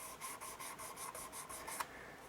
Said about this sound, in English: I'm just letting the sandpaper do the work